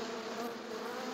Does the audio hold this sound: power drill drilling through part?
no